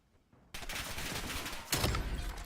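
Rapid gunfire bursts in a Call of Duty match, including a sniper rifle kill, dense and loud with a sharper volley near the end.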